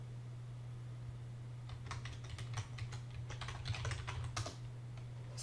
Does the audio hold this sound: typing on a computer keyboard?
yes